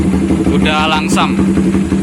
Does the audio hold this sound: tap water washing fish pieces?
no